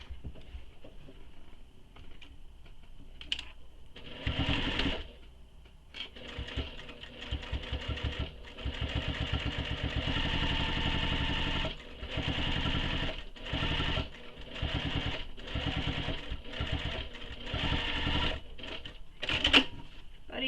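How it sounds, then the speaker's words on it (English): A sewing machine top stitches the long edges of a fabric tote bag, running in steady stretches of fast mechanical whirring broken by brief stops, fairly quiet and close. "I'm going to top stitch both the long edges with the seam allowance she gives in the pattern"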